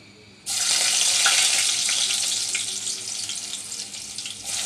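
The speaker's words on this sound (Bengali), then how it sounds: "আমি প্রথমে পরিমাণ মতো তেল নিয়েছি, এবার দিয়ে দেব অল্প রসুন কুচি" Chopped garlic dropped into hot oil, starting with a sudden loud sizzle that settles into a dense, steady crackling hiss, fading slightly toward the end.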